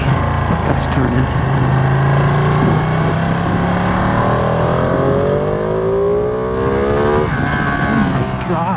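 A Ducati Panigale V2 motorcycle accelerating in race mode, a loud continuous engine roar rising steadily in pitch through the gears, close and dominant throughout, with wind noise.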